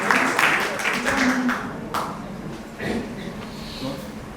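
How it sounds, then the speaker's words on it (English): Audience at a women's award ceremony breaking into a burst of clapping that is dense at first and then thins out, with voices mixed in. "Can we have a huge round of applause once again?"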